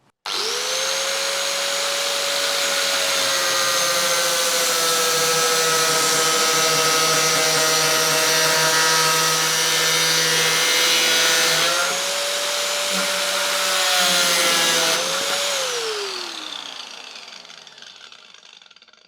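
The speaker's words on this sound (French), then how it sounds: "ce qu'il va falloir faire, c'est que j'ai ma disqueuse le plus dans le bon angle possible" A handheld angle grinder cuts into the steel body of a Citroën 2CV, its loud, steady high-pitched whine running for about fifteen seconds before the pitch sags and winds down as the disc slows.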